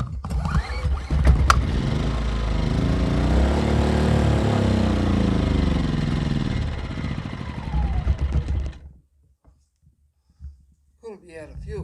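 A Kings 2KVA pure sine wave inverter generator runs with a steady droning engine hum for about eight seconds, then cuts out abruptly to near silence, leaving only faint small knocks and handling noises near the end.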